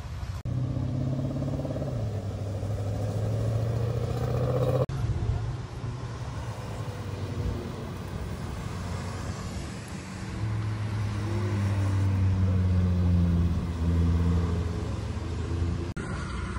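Race cars including Ferrari, Corvette, Lamborghini, Audi and Ford lapping the Pont-l'Évêque circuit, engines droning and rising in pitch as they pass close by, with a steady continuous roar throughout and people talking over it.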